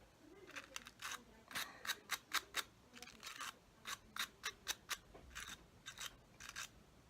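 Scissors snipping fly-tying material while trimming a pike muddler minnow, a long run of quick, crisp close-up cuts in uneven clusters with brief pauses between, quiet and alone.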